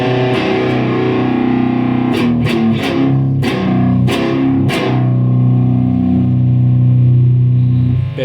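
Distorted electric guitar playing loud through a Godin SDXT with a Wilkinson pickup, with several sharp picked attacks early on and then sustained, fuzzy chords ringing out alone.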